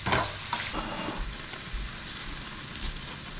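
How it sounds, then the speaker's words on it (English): Ground beef being stirred in a hot skillet for taco skillet, a steady broad sizzle with a few soft scraping strokes throughout, no voices. "Hold on, I gotta mix my beef over here."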